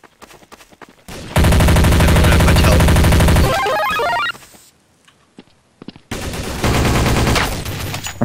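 Automatic gunfire from the video game Counter-Strike: Source comes in two loud, rapid bursts separated by a short quiet gap with a few faint clicks.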